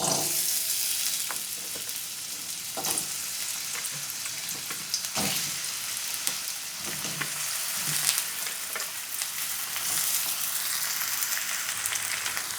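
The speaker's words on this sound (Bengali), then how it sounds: "আমি গ্যাসে একটা কড়াই বসিয়েছি এখানে সর্ষের তেল দিলাম সর্ষের তেলই রান্নাটা করব তেলটা গরম হয়ে গেছে এবার সবজিগুলো একটু ভেজে নেব" Vegetables fry in hot mustard oil in a wok on a gas stove, a steady loud sizzle running throughout, broken now and then by stirring scrapes and clatters.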